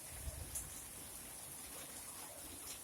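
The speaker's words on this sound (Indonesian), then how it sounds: "Kali ini, oh, hujannya terus banget, bro." Steady rain falls outdoors in the afternoon as faint, continuous hiss with a few soft drop impacts, no talking.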